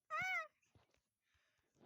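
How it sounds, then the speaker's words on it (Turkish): A single short, clear cat meow from the video game Minecraft, followed by faint scattered in-game sounds in a quiet background. "Kedi."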